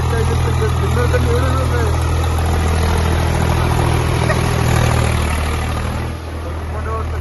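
A steady low tractor engine drone runs throughout as it ploughs a field in the rain, with mixed background noise; the rumble eases slightly near the end.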